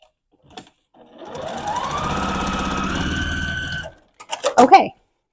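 A sewing machine stitches pieced quilt fabric in one continuous run of roughly three seconds, a fast, close mechanical whirr, followed by brief clicks and handling noises.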